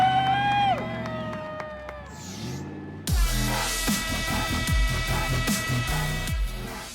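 Crowd cheering and whooping at a Rock Bouncer off-road event at Superlift ORV Park as a vehicle rolls over, loud and sustained, with a roaring engine underneath and bursts of shouting.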